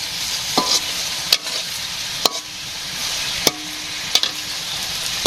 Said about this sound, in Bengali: তরকারি থেকে কষে নিচ্ছি এখন।